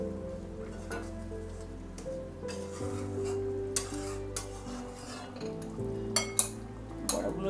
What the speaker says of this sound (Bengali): গ্রেভিটা আমার ফুটে উঠেছে। এবার আমি বড়াগুলো দিয়ে দেবো।